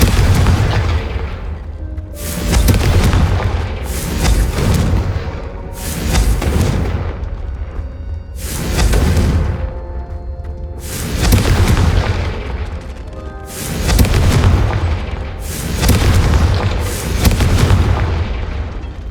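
Repeated booming explosions from the Confringo blast spell in the video game Hogwarts Legacy, about nine loud, heavy bursts spaced roughly two seconds apart, each swelling and fading.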